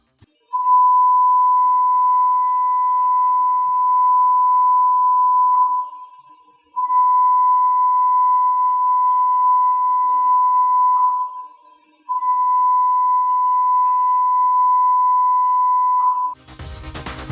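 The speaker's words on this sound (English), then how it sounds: "That is the men overboard alarm." A steady, piercing electronic tone sounds in three long blasts with short gaps, loud and alone: the man overboard alarm aboard the vessel Sapura 3000.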